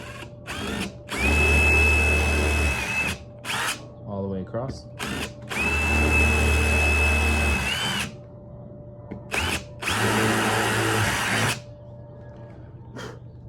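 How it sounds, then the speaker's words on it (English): A power drill whirs in three loud bursts, rising in pitch as it spins up, drilling small holes in a coconut-shell kalimba, with brief speech between the bursts. "I'm just gonna do little drill holes"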